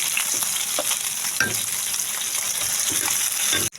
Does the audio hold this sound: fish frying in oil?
yes